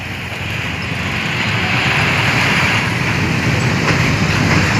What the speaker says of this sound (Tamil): ட்ரெயின் ரொம்ப சுலோவாக தான் போகுது.